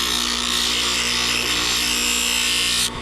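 A 50 grit Velcro sanding pad on a power tool grinds steadily against the edges of a cut ordinary rock, a loud continuous abrasive whine that holds for nearly three seconds before cutting off abruptly.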